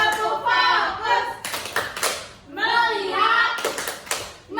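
Schoolchildren in a grade 4 classroom doing a tepuk fokus clap routine, chanting in unison between bursts of rhythmic group clapping, loud and close.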